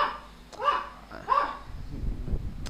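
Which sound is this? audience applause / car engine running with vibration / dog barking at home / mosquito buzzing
dog barking at home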